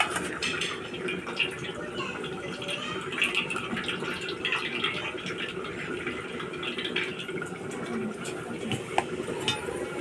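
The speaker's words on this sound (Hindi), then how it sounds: "पूरा बढ़िया तरीके से पानी को निकाल दीजिए।" Water pours and splashes steadily for the whole stretch as it is drained from a cooking pot of radish, a continuous watery rush with faint clatter, fairly close.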